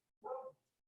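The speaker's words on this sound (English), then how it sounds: "I apologize for the dogs barking in the background." A single short dog bark, muffled and faint, sounds once in the background of an otherwise quiet room.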